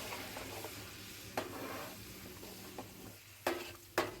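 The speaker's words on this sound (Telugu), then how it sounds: "టమాటా పచ్చి స్మెల్ పోయే వరకు వేగనివ్వాలండి." Tomato paste fries with a quiet, steady sizzle in a pan, broken by a few sharp stirring clinks and scrapes near the end.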